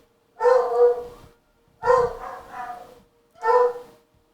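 Several household dogs bark in three loud, close bursts separated by short silences, each volley made of rapid overlapping barks, with no talking over them.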